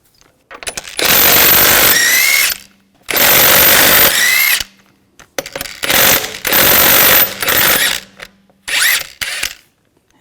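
A power tool with a 19mm socket pulls lug bolts off the rear wheel of a 2000–2006 BMW X5, giving loud whirring bursts of about a second each, several in a row with short pauses between them.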